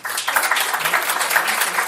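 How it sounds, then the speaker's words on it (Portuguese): An audience at a lecture applauds to welcome a speaker, dense clapping from many hands that stays loud and steady throughout. "uma salva de palmas"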